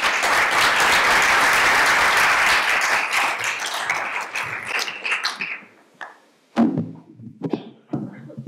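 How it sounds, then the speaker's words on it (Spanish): An audience at a Colombian education keynote breaks into loud, sustained applause that thins out after a few seconds, leaving scattered individual claps and taps before it fades. "Un fuerte aplauso, por favor."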